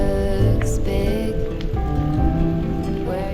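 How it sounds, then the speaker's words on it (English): Light rain beginning to fall during a riverside bike ride on the EuroVelo 6 route from Radolfzell on Lake Constance toward Ulm along the Danube. A steady patter with scattered drops, soft music underneath. "Rain is just starting now."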